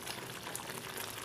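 A makhana dish bubbling at a boil in a pot, a faint dense crackle of bubbles throughout with no talking.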